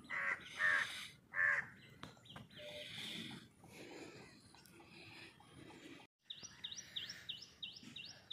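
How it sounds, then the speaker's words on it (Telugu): Crows caw repeatedly in the open morning air in Kerala, with sparrows chirping among the calls; loud close caws early, then a brief silence and a run of bright chirps toward the end, no talk. "మేము చిన్నప్పుడు వస్తుండే కాకుల సౌండ్ కానీ పిచ్చుకల సౌండ్"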